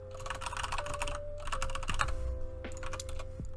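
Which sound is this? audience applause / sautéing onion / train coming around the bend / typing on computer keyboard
typing on computer keyboard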